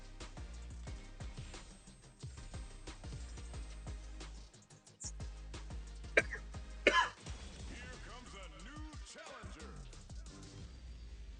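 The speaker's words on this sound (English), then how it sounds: "I haven't been able to shake this cough" A person sick with a lingering cough clears their throat and coughs a few times, short rough bursts near the middle over steady game sounds and music.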